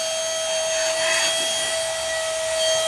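A battery-powered Autoommo portable mini car vacuum with a 70-watt motor runs continuously, a steady high-pitched whine over a broad airy hiss, close and loud throughout with no voices.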